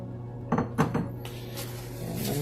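Wet and dry honey cookie ingredients being combined in a bowl, a couple of distinct knocks and clinks of a utensil on the bowl followed by softer scraping.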